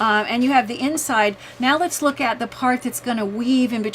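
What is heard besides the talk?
No everyday noises stand out.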